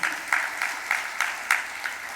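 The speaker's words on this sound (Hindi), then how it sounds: "तो हमारे श्रोताओं के लिए भी ताली बजा लो आप लोग।" Audience at a Hindu religious discourse claps in a rhythmic, evenly spaced beat, crisp group claps repeating about three times a second, moderately close, with no talking.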